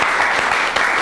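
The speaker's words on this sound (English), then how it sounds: "I would like to ask the audience to give Ben, Sofa, Anita, and Ariola a huge round of applause" Dense, steady applause from an audience at an evening talk in Tbilisi, loud and continuous across the whole moment with no voices over it.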